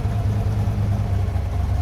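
The Blasphemi race car's engine idles after a race, its low, steady burble loud and close with a slight uneven pulse and no speech over it.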